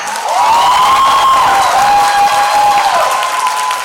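Steady audience applause fills a Thai seminar hall, with dense clapping throughout and a few high cheers or whoops riding over it, loud and sustained for several seconds.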